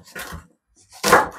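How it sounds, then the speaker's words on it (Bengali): Vegetables being chopped with a knife for a masoor dal veg soup, two short clusters of quick cuts on a board, close and moderately loud. "এদিকে আমি বাকি সবজিগুলো চপ করে নেব।"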